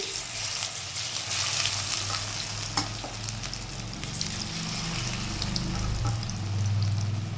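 Gram flour fritters bubble and crackle in hot oil, a steady close sizzle running throughout, with a low hum underneath and an occasional faint knock.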